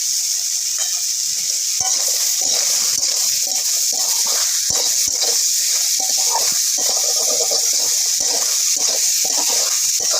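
Eggplant frying with potato, salt and turmeric in a pan makes a continuous close sizzle, with scattered scrapes and clicks of stirring throughout and no speech.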